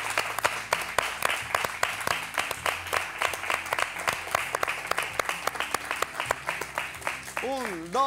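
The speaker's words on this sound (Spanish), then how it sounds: "Un aplauso para esta generosidad." Studio audience applauding on a live Spanish television show, dense sustained clapping through the clip under a host's voice, ending with a music swell.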